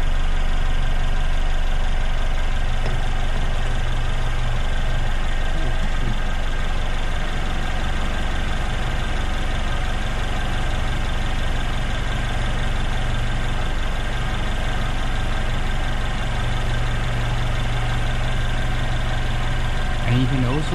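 A car engine idles steadily through a battery tester's cranking test, a constant low rumble with a mechanical hum that stays even and continuous throughout, fairly loud and close.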